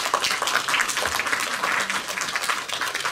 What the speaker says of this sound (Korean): 우리 이경태 부총재님 여러분들 박수 한번 주십시오